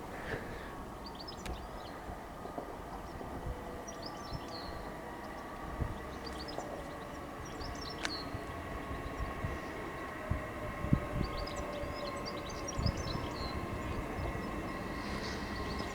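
A Class 800 train pulls into Grantham station on the East Coast Main Line, a steady low rumble with faint high whining tones and occasional clanks, heard from the platform with no talking.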